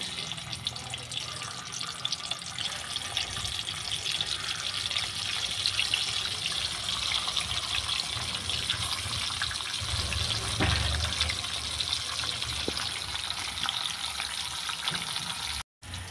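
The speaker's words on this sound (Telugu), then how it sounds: "కాకరకాయలు ఇట్లా గోల్డెన్ కలర్ వచ్చే వరకు ఫ్రై చేసుకోవాలండి" Bitter gourd pieces fry in hot oil with a dense, even sizzle that runs steadily for the whole stretch, close up and without talk, then cuts off briefly just before the end.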